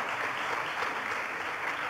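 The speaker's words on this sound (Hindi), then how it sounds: "लेकिन इस सोच के लिए कम से कम निशी के लिए एक बार तालियां हो जाएं।" An audience at a conclave on innovation with young people from Madhya Pradesh gives a short, even round of applause. It sounds fairly soft and continuous, with no voices on top.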